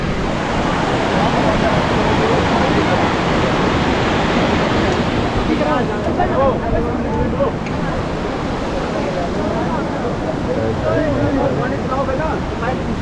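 Rushing water roars loud and constant at a stream crossing on the Baltal route of the Amarnath Yatra, a broad close wash of flowing water that fills the whole scene.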